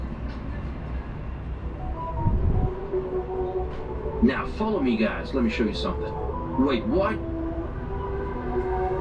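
A monorail train runs past in a low, steady rumble beneath people talking, with a brief louder swell partway through.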